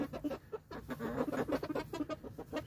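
Backyard hens cluck and murmur in a soft, continuous chorus of short repeated notes, close by and without talk, late in the afternoon.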